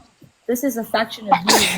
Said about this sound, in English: Gesundheit, bless you.